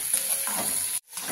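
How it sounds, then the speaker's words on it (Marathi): Onion and tomatoes sautéing in a pan, giving a close, steady sizzle with soft stirring scrapes that cut out for a moment near the end. "आता आपण टोमॅटो टाकणार आहोत त्यामध्ये। चांगलं परतून घेऊ।"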